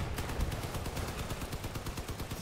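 Rapid bursts of gunfire from vehicle-mounted guns, including medium machine guns and shotguns, in the Crossout vehicle combat game, a dense, fast rattle of shots repeating steadily and loudly for the whole stretch with no talking.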